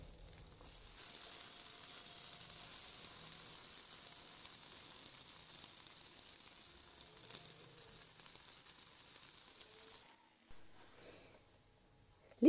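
Food cooking in a covered pan over low heat, a faint steady sizzle and hiss continuing for several seconds, quiet and even, ending with a brief louder clatter.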